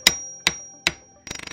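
A hammer taps a socket into a power steering pump during a Supra Turbo rebuild, giving three sharp, evenly spaced metallic knocks followed by a quick burst of lighter rapid taps, close up with no talk.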